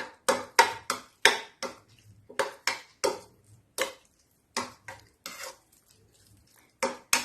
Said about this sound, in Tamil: இது சூடான சாப்பாடு தாங்க. நல்லா மிக்ஸ் பண்ணிடலாம்.